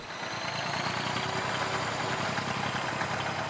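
A farm tractor engine runs steadily at a low, even throb with a faint vibrating rattle, heard alone without talk and holding constant throughout.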